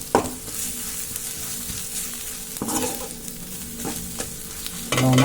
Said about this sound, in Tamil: மசாலா எல்லாம் வந்து வெங்காயம் தக்காளியோட நல்லா கலந்து மிக்ஸ் ஆகிற அளவுக்கு நல்லா வதக்கி விட்டுக்கோங்க